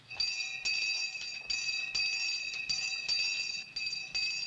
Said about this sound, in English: That's the bath bell.